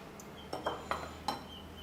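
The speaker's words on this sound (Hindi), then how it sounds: "उबली हुई मैगी को इसके अंदर डाल देते हैं।" Boiled Maggi noodles are tipped into a bowl in a home kitchen, giving a few light metallic clinks of a spoon against the dish over a faint steady background hum.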